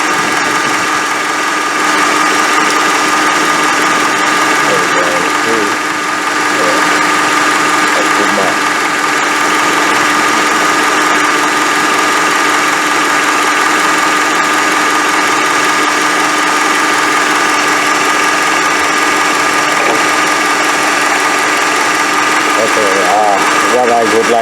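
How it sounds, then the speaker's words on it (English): A car engine idles steadily with a constant droning hum while power steering fluid overflows and bubbles in the reservoir, the tone holding unchanged for the whole stretch with faint mechanical whine and a brief voice near the start. "let the engine run in idle for a while"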